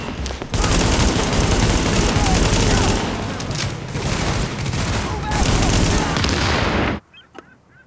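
Sustained gunfire from Tom Clancy's The Division pours out as a dense, loud barrage of overlapping shots for several seconds, then cuts off abruptly into near silence with only a few faint sounds.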